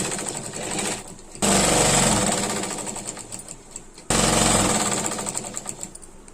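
A sewing machine stitches a lehenga in two long runs, a loud, close, steady mechanical whirr with rapid needle chatter, each run starting abruptly and slowing slightly before a brief pause.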